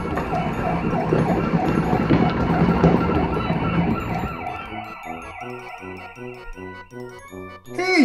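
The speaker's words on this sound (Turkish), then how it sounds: "ambulans." A wailing ambulance siren sweeps up and down over busy traffic noise, then changes to a fast two-tone pattern, loud and close by.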